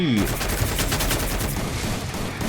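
Rapid bursts of video game gunfire crackle continuously in a loud, dense exchange, with a voice briefly audible at the start.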